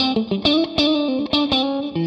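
Electric guitar played through a Jet Pedals Revelation spring reverb, a series of plucked chords and notes with a bright, slightly distorted, chorused shimmer and a lingering springy tail, steady and close with no voices.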